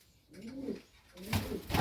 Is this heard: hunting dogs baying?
no